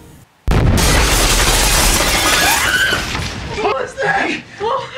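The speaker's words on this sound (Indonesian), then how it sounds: "Saat mereka tidur, sebuah ledakan sampai ke rumah mereka." A house blown apart by an explosion in a film scene, starting as a sudden, loud blast that erupts from near silence into a sustained roar of shattering glass and falling debris, with voices crying out as it fades.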